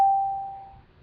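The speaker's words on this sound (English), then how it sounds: "What are they ringing the bell for now?" A school bell sounds once inside a classroom building, giving a single clear tone that rings out and fades over about a second before falling silent.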